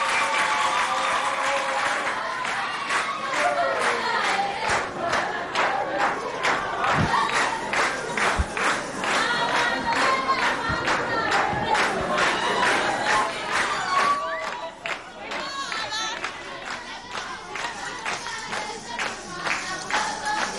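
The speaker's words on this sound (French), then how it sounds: "Applaudissements pour les accueillir." A school crowd at a lycée dance competition in Sarh cheers and claps to welcome a dance group, with loud shouting and whooping, dense rhythmic clapping, and excited voices rising and falling throughout.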